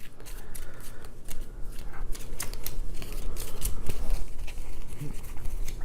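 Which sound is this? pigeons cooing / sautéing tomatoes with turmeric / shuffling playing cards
shuffling playing cards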